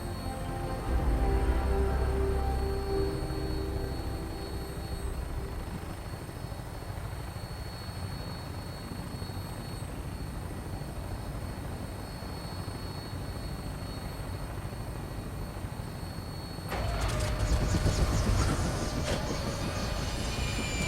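An aircraft in the Fallout 4 video game lands and docks: a steady, loud mechanical rumble and engine drone runs throughout, ending in a sudden louder clanking surge as it locks into place.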